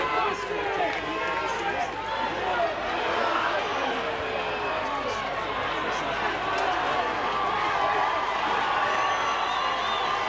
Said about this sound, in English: crowd getting into it now